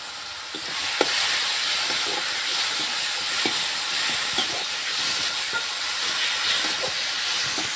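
Crushed ginger and garlic fry in a pan with softened tomatoes, a constant bright hiss overlaid with scattered small pops and spatters, close and even throughout.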